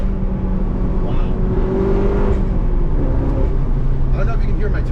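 A stage 2 tuned Mini F56 drives uphill on a canyon road, its engine droning loudly and steadily with turbo whine and road noise, while someone talks over it.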